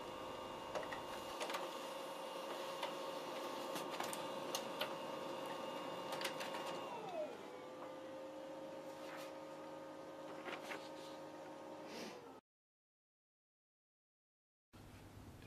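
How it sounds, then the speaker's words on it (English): A pigeon-racing electronic timing system's printer hums and whirs steadily with faint ticking while printing a race list, its pitch dropping midway as the mechanism shifts, then briefly cuts to silence before resuming. "the printer will then print the close race list"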